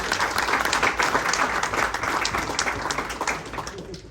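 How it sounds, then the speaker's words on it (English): A crowd at a MotoAmerica Ducati race team party in Austin, Texas breaks into steady applause, dense clapping that holds for several seconds before tapering slightly. "big round of applause to Loris Best"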